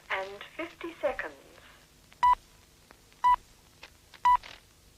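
Three short, loud time-signal pips from a speaking clock, about one second apart, follow an opening burst of speech, with quiet gaps between the tones.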